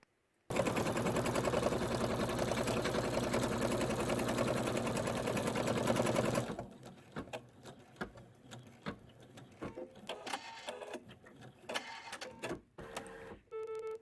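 An embroidery machine stitches a snow globe ornament with a dense, rapid mechanical chatter that runs steady and loud for several seconds. It then stops, leaving scattered clicks and handling noises.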